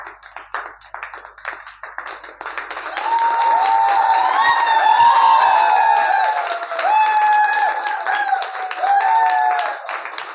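An audience applauds at a business seminar, with dense clapping throughout, joined midway by a loud sustained tonal wail over the crowd noise that rises and falls before easing.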